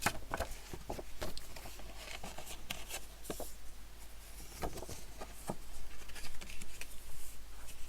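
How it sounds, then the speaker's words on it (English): A bone folder rubs across paper to burnish it, making a quiet, close scratchy swishing in short, uneven strokes that go on throughout. "So let's do our burnishing now. Best results are with a bone folder here."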